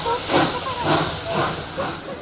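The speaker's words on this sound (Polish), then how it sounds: "Jedziemy pociągiem, jedziemy parowozem" Steam locomotive hissing steam at a Wolsztyn steam depot: a loud, continuous broadband hiss with rhythmic surges, close by, with faint voices underneath.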